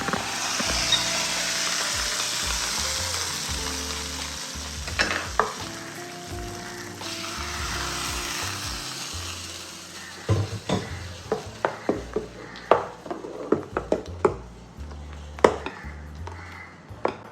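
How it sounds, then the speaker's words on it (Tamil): Hot tempering for chicken sundakkai mor kuzhambu hits buttermilk with a steady sizzle, followed by a run of sharp metallic clinks and taps from the utensils. "இப்போ நம்ம இந்த தாளிப்பை மோரில் போட்டுக்கலாம்."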